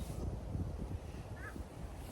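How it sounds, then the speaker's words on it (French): Strong cold wind gusts across a quiet outdoor spot in Korea, a low steady buffeting rush on the microphone with no voices. "Il y a beaucoup de vent, j'ai froid"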